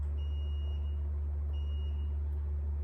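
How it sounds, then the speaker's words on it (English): A multimeter in continuity mode emits two short, thin electronic beeps as a button on a repaired Renault Clio II key fob is pressed, over a constant low electrical hum with no talking. "if we press the button we should hear a beep."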